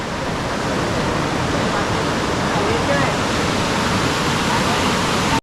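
A waterfall roars loudly and steadily, a dense wash of rushing, crashing water that fills the whole scene without pause, nearby and overwhelming.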